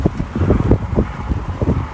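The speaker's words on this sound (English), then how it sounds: "It's a bit windy" Gusty wind buffeting the microphone on a morning in Arches National Park, a steady low rumble with irregular bursts across the whole stretch, no speech.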